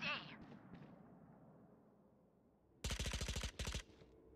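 Bursts of rapid automatic gunfire in a video game, two close sharp volleys after a faint muffled shot, with brief talk at the start.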